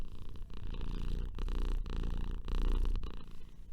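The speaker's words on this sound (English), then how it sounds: "My new cat, Winston, is sitting here." A house cat purrs steadily and close by in a quiet indoor room, a low continuous rumble with a few small breaks, heard alone without any talking.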